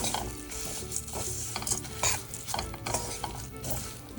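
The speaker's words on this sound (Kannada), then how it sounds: "ಇವಾಗ ಅವಲಕ್ಕಿ ಹಾಕೋಣ. ಚೆನ್ನಾಗಿ ಮಿಕ್ಸ್ ಮಾಡ್ಕೊಳ್ಳೋಣ." Spoon stirring flattened rice into melted jaggery in a pan on the stove for a festival sweet, with continuous scraping and soft sizzling and irregular mixing strokes, no talk.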